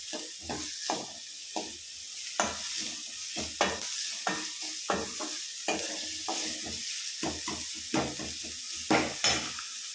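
Onion and garlic fry in a pan for chicken soup, with a soft sizzle under repeated scraping stirs of a utensil against the pan. The stirs come at a steady, unhurried rhythm and are close and moderately quiet, with no speech.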